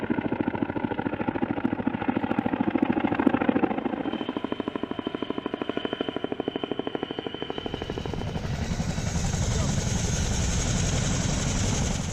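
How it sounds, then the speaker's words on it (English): A CH-47 Chinook twin-rotor military helicopter lifting off, a loud rapid rotor thudding over a heavy engine drone that shifts into a harsher, brighter whine partway through, close and continuous with no talk. "the helicopter heads into the air"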